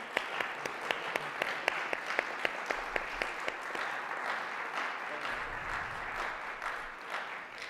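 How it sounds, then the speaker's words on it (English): An audience applauds guest speakers at a student event, a steady wash of many hands clapping at moderate distance with a few sharper nearby claps standing out early, continuing evenly throughout. "we're going to give an applause to our guest speakers"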